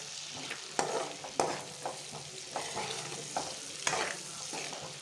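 Vegetables for chilli chicken, capsicum among them, fry lightly in a pan with a soft sizzle, while a utensil scrapes and stirs in sharp, repeated strokes.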